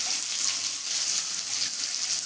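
Finely chopped onions sizzling in hot tempering oil for a South Indian beans stir-fry, a steady close frying hiss throughout.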